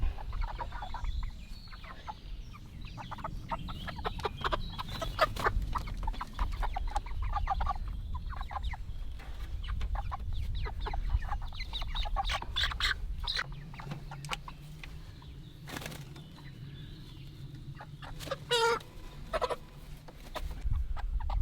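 Several chickens being moved into a chicken tractor cluck and murmur close by, with occasional sharper squawks and rustling over a low background hum.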